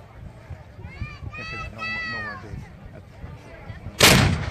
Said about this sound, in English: I'm literally, I don't know, 40 to 50 feet from that cannon.